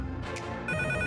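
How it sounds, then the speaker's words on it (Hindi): A telephone rings in a cartoon setting, a steady electronic ringtone starting partway through and sounding close and clear over a busy background. "शायद फोन बज रहा है।"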